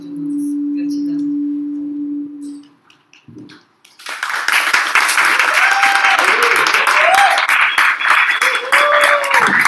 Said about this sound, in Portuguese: bater palmas é uma forma de você limpar o ambiente também